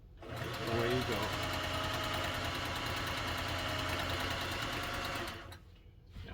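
A Singer 404 sewing machine stitches fabric, its motor starting up into a steady, close whirring hum with a rapid needle rattle, running about five seconds before stopping abruptly.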